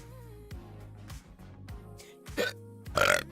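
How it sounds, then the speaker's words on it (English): A burp made straight into a microphone during a live computer-build stream, loud and close, rising near the end of a short stretch with background sounds before it. "I just unmuted my mic to burp into it."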